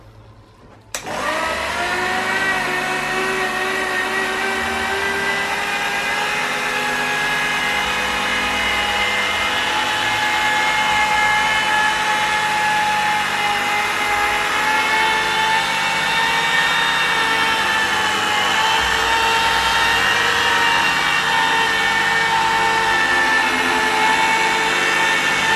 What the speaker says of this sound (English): So we'll start polishing this now,